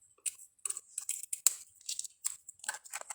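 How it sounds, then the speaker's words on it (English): Scissors snipping through Calypso Coral die-cut card stock, cutting it down the middle: a quick series of close, crisp clipping ticks in an uneven rhythm, with no one speaking. "we're just going to cut it right down the middle"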